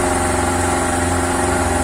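A sailboat's auxiliary motor runs steadily near Pontal do Sul, a loud, even idling chug with a regular mechanical pulse, close and alone without talk.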